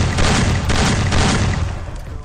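Loud video game gunfire: a dense, rapid burst of shots and booms lasting a couple of seconds, with no talking over it.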